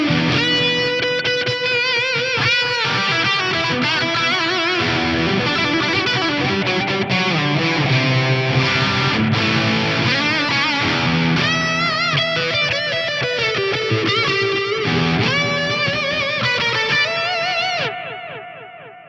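Distorted electric guitar run through an Eventide H90 harmonizer post-gain in stereo, thick shimmering harmonized chords played continuously and loud, then trailing off at the end, with no talk.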